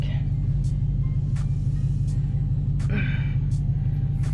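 A Dodge Hellcat engine held at 1200 rpm in launch control makes a constant, deep throbbing rumble at an unchanging pitch and volume, with faint ticks and light background noise on top.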